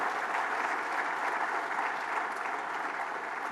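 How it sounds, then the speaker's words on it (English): An audience at an energy conference session gives steady, dense applause for distinguished dignitaries, a sustained even wash of clapping throughout. "Let's give all our distinguished dignitaries a huge round of applause"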